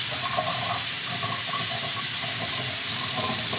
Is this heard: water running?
yes